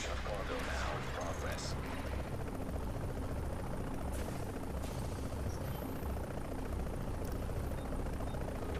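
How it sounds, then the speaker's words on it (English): An extraction helicopter in Tom Clancy's The Division thrums steadily with rotor chop, accompanied by scattered game gunfire and effects, fairly loud and continuous throughout. "hold tight until the helicopter arrives"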